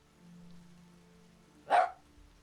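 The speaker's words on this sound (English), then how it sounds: "you hear behind you" A single short dog bark, loud and close, comes near the end of a quiet stretch, alone with only a soft low hum beneath it.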